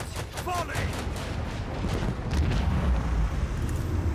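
Ship weapons opening fire in the Warhammer 40k Rogue Trader video game, a steady rumbling barrage of gunfire and booms that holds for several seconds and swells near the end, loud and continuous.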